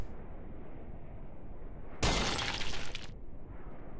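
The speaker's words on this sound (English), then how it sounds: "There was a cracking of the glass." Glass cracks and shatters in the horror RPG game Ann, a sudden bright crash lasting about a second over a steady low ambient hum, with no talk.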